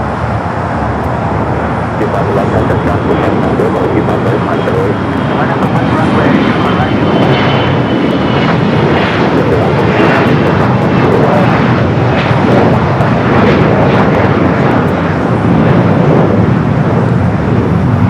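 Airliner taking off at Los Angeles International Airport (LAX), a loud continuous roar of jet engines that swells and holds throughout, with air traffic control radio voices talking beneath.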